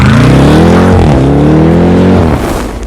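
A 2019 Jeep Grand Cherokee Trackhawk's 6.2-liter Hellcat V8 with 707 horsepower drones loudly and steadily, its pitch dipping and rising as the revs shift, then easing off slightly at the end.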